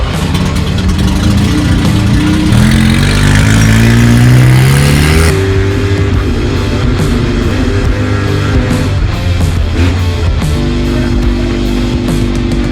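A Mazda RX-7, abandoned for ten years and just revived, accelerates while driving, its rotary engine rising in pitch through a gear, dropping at a shift, then climbing again, loud and close from inside the car.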